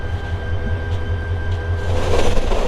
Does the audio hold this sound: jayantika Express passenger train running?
yes